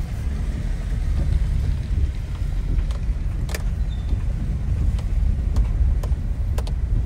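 Floodwater rushes through a swollen river in a steady, loud broadband roar with no breaks, and a few faint sharp clicks sit on top of it.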